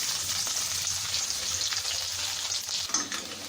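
Steady, close sizzling of chopped onions frying in hot oil with popped mustard seeds for bottle gourd sambar, a dense crackling hiss that runs the whole time with a few brief stirring clatters.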